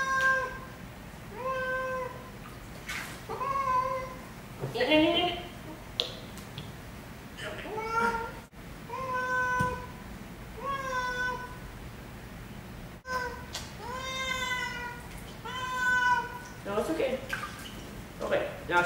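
A hairless Sphynx cat yowls and meows over and over while being bathed, the cries near and insistent over quiet water dripping and splashing.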